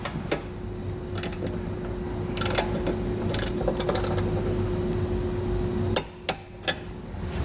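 Torque wrench tightening hitch bracket nuts onto vehicle studs, with a steady mechanical whir broken by sharp metallic clicks and a few louder snaps near the end, close up and without speech.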